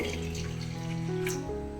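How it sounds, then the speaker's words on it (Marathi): Half a glass of water poured into a pan to start sugar syrup for pistachio barfi, a steady close splashing stream with a low hum underneath, lasting under two seconds with no talk. "तर आपल्याला इथे आता अर्धा ग्लास पाणी ओतायचंय।"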